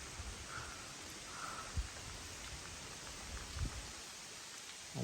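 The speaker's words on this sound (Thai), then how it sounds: "ไม่รู้ว่าฝนมันจะมาแรงแค่ไหนนะ" Rain falling in a forest, a soft, steady hiss of drops on leaves with a couple of faint thuds and rustles, fairly quiet and distant with no voices.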